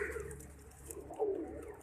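Soft coos from a breeding pair of pigeons rise briefly over a low, steady background hum, a couple of gentle calls close by.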